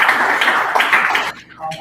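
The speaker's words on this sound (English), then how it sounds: "Another round of applause, please" Audience at a tech meetup applauding a speaker, a short burst of scattered hand claps that quickly thins out, with a voice speaking over it.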